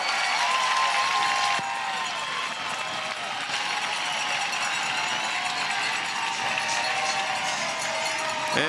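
A large crowd at a professional softball game roars and cheers steadily throughout, a dense wash of noise with scattered claps, sounding like a packed stadium.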